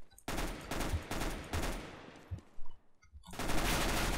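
Rapid bursts of automatic gunfire in CS:GO, loud and close, firing in several volleys with short gaps before a final sustained stream of shots.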